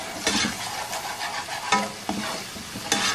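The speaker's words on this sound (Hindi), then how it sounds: "इस प्याज को इतनी देर तक पका लेंगे कि इसकी रंगत हल्की सुनहरी हो जाए।" Onion paste frying in oil in a pan for a chicken malai kofta curry, a close crackling sizzle with scraping stirring strokes recurring at irregular intervals, no speech.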